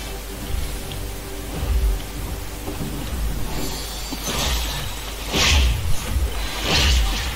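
An approaching thunderstorm in a video game, with broad rumbling thunder and rushing wind-and-rain noise that swells in bursts toward the end, steady and fairly loud with no talk.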